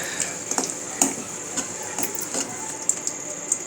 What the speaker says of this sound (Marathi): कढईत गावरान तूप टाकलं आहे आणि यामध्ये आपण आता बारीक केलेले ड्रायफ्रूट आणि खोबरं परतून घेऊया